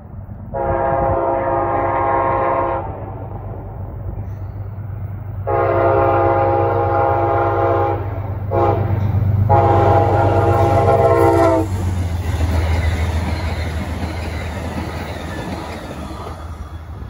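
Amtrak Empire Service passenger train passing eastbound through North Chili, New York, sounding three loud horn blasts over a steady rumble of the rolling train, followed by squealing and clattering wheels as it goes by.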